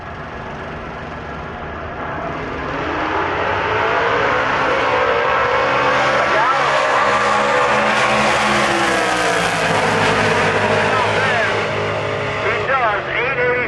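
Drag race cars, a blue Yenko Nova and a Copper Camaro, roar off the line at a dragstrip, engines rising and sweeping loud past the listener, with an announcer talking over the noise.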